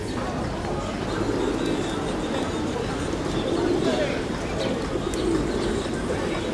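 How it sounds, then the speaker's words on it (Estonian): Pigeons coo in a flock at a tourist feeding spot in the Balkans, a steady low murmur of cooing with a few chirps over background crowd babble. "Rõvedad on need tuvid niimoodi."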